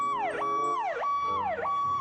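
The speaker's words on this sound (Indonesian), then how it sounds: "yang ini pemadam kebakaran." A toy fire engine's electronic siren repeats a wailing tone that holds steady and then swoops down and back up, cycling three times, close and clear with no talking.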